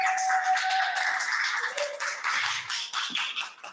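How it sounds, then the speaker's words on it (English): An audience at a poetry festival claps, a brief burst of many hands that starts strong and thins out over a few seconds, with a faint voice underneath. "Please give her a warm round of applause."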